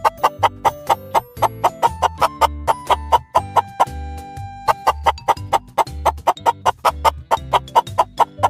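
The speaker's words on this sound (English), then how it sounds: "Now, let's talk about the clucking chicken." A farmyard chicken clucks in a quick, steady series of short calls, laid over a bouncy rhythmic music backing that keeps time with the clucks throughout.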